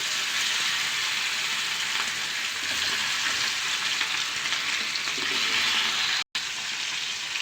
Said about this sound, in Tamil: கொஞ்சம் பெருசாக இருக்க மீனை பொரிக்க போகிறேன்